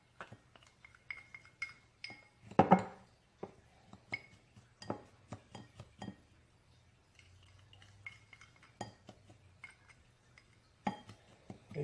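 A rub of blackening seasoning, brown sugar and light soy sauce being stirred in a bowl for ribs, with scattered light clinks and scrapes of a utensil against the dish, irregular and fairly close over a quiet background.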